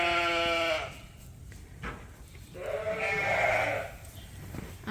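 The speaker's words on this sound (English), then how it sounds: "These are the replacement ewe lambs." Sheep bleating on a farm among replacement ewe lambs: a long, loud harmonic bleat opens, then after a pause a second wavering bleat rises, with soft shuffling and low farmyard noise between.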